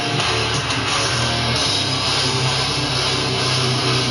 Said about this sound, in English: That guitar sounds like the machines I grew up around.